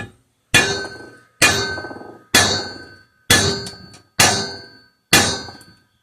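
Six sharp, ringing clangs of a small sledgehammer striking the metal of a seized air compressor pump, evenly spaced about a second apart, each decaying quickly.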